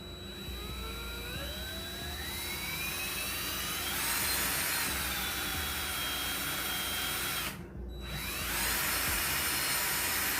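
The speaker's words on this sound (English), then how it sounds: "I'm going to drill my hole" A power drill bores a hole for a part on a 2002 Honda Magna VF750C during a rebuild, whining steadily for about ten seconds with one short break near the end, loud and close.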